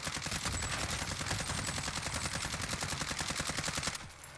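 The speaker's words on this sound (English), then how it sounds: "you're going to test from a 20, ADS, and empty out the whole mag" A full magazine is emptied in a first-person shooter video game: one long, rapid, evenly spaced burst of loud automatic gunfire lasting about four seconds, then stopping abruptly.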